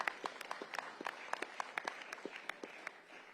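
Scattered clapping from an audience at an event for the new Anacostia Recreation Center in Ward 8, a handful of distinct claps at uneven intervals, fairly quiet and somewhat distant, with no voices over them.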